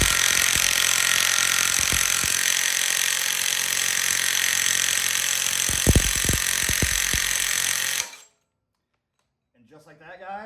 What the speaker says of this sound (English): it's going to tighten up and pull that harmonic balancer out evenly